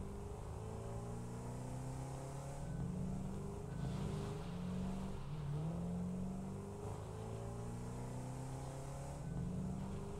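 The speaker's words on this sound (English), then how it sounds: "I'm not sure if driving the explorer is actually any faster than walking" An Explorer vehicle in Satisfactory drives along with a steady engine drone, its pitch rising and falling slightly as it moves, close and continuous with no talk.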